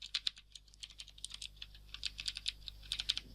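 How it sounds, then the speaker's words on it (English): Clicky blue switches on an ACGam mechanical gaming keyboard clatter as someone types close to the microphone, with crisp, irregular keystrokes in bursts and short pauses. "These are blue switches, I believe. This is why they're clicky."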